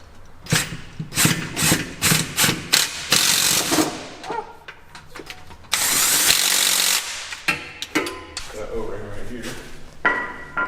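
Power tool driving bolts on a muscle car in a roadside shop, heard as a series of short loud bursts and whirs with metallic clanks between them, close by, with people talking underneath.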